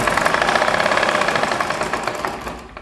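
A home sewing machine runs steadily at a brisk speed, its needle stitching fabric in a fast, even mechanical patter that stays close and loud before slowing near the end.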